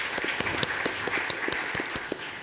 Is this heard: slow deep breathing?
no